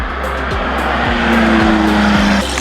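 A Lamborghini Murcielago LP650-4 with an aftermarket exhaust on a Tokyo street, its engine droning loud and close in a steady high-revving tone that builds slightly, with rhythmic thumps underneath.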